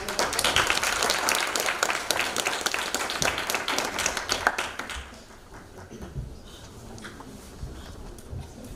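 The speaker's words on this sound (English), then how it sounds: "Let's give them a round of applause." Audience applause for learners stepping up to present at a school event, loud and dense for about five seconds, then cutting off abruptly and leaving a quiet room with faint shuffling.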